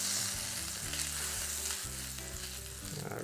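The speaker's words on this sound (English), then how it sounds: "I'm going to put some butter on here, melt that down." Butter melts and sizzles on a hot plate for quesabirria, a steady close frying crackle with a constant hiss and no voices.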